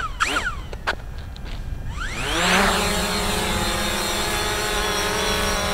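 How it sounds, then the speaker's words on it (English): A Fimi X8 SE drone's motors spool up during an automatic takeoff, rising into a loud, steady whine with layered tones after some brief clicks and handling noises. "So I love the way the drone kicks those motors, and it goes up about 13 and a half feet high."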